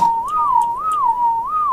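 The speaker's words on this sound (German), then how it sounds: "Man pfeift eine Weile und dann bewegen die sich nicht mehr." A whistle command in the game Ark Survival Evolved, a clear pitched whistle rising and falling in a repeating wavy pattern, steady and fairly loud throughout with no talking.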